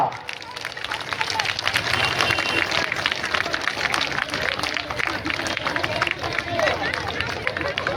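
A large outdoor crowd at a political rally in Sindri keeps up dense, steady applause and cheering, a continuous wash of claps and voices heard from within the gathering.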